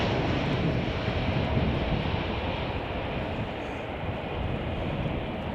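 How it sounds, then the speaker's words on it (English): A United Airlines Airbus A320 passes at Chicago O'Hare with a steady, loud, broad jet roar that stays even across the moment and fades only slightly toward the end. "The aircraft that just flew right in front of the camera just a second ago was United Airlines Flight 1655 from Calgary on an Airbus A320."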